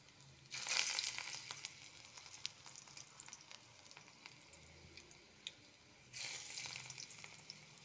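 Coriander leaf pakoras fry in white oil, with a soft steady sizzle and two louder bursts of crackling spatter, one near the start and one toward the end.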